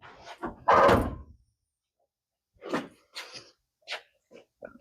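The door of a 1963 VW Bus swings shut with one loud slam, followed by a few fainter knocks and clunks spaced out after a short silence.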